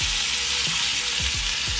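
Steak in a hot pan with its fat rendering, a loud, close, steady sizzle that hisses without a break for the whole short stretch.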